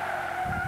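A Corvette C7 skidding off track at Monza in Gran Turismo 6, a short continuous tire squeal over engine drone, loud and close.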